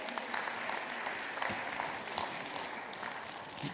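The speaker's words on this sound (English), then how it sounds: "Give them a round of applause." An audience claps steadily for a couple called up from the front rows at a live magic show, sustained applause with scattered louder claps and no voices on top.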